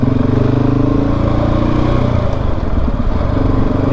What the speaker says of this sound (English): This little area I've been riding down before on the other bike with Squatch,